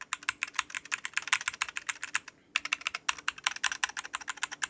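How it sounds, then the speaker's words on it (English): Steady fast typing on a Made 68 Ultra Hall Effect keyboard with TTC KOM magnetic switches, crisp even keystrokes close up, pausing briefly midway before resuming at the same brisk rhythm. "The Made 68 Ultra is a Hall Effect keyboard, which uses TTC KOM magnetic switches."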